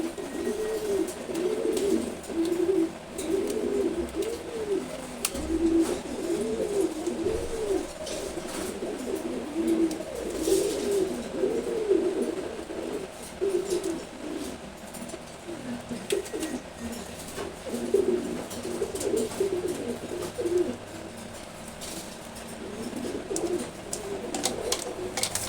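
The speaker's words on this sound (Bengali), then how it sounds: "সিলভার গোরা কবুতরের বাচ্চা।" Silver Gorra pigeon chicks coo in a steady, rolling rhythm throughout, the repeated throaty calls close and moderately loud over a low background hum.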